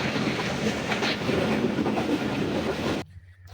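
A passenger train passing Lodhran Junction at moderate speed in foggy weather, a loud continuous rumble of wheels on rails with faint clickety-clack, cutting off abruptly near the end.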